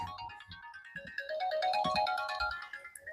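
A mobile phone ringtone plays a bright melodic electronic tune, fairly close and continuous for a few seconds, with faint room noise underneath.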